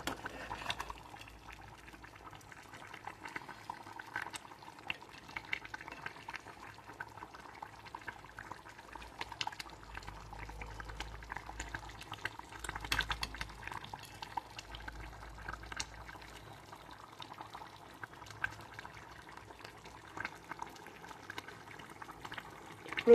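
Fish curry (ragandi chepa pulusu) simmering in a pot, a faint, steady low bubbling with soft intermittent pops, quiet and continuous throughout.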